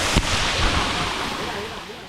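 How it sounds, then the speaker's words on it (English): A waterfall at a river tubing eco-adventure park at Good Hope pours with a loud, steady broadband roar of rushing water, close by and unbroken throughout. "Look, so as you can see, an actual waterfall."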